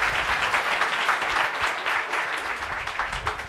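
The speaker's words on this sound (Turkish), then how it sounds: "Merve'ye alkış, hadi bakalım." A short burst of audience applause for a volunteer named Merve, with many people clapping at once in a steady, fairly close ovation that fades slightly at the end.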